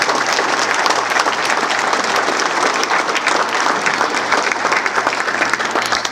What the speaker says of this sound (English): Would you please give a round of applause to these men that are working so hard.